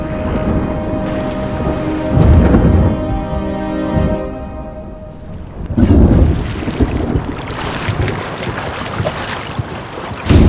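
A thunderstorm rolls in before rain, with loud deep thunder rumbles swelling and fading over several seconds above a constant wash of rain or wind noise, and no talking.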